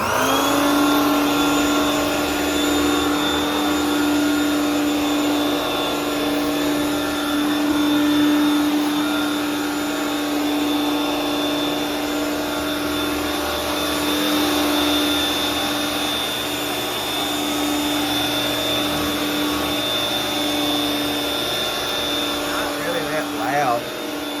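A vintage 1987 Regina Housekeeper 1000 upright vacuum cleaner runs with a steady, loud motor whine and whirring hum that stays constant throughout, close up with no break.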